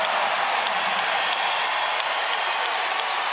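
A packed arena crowd at an NBL basketball game between the Perth Wildcats and Adelaide 36ers roars in a steady, dense wash of cheering and noise, loud and continuous throughout.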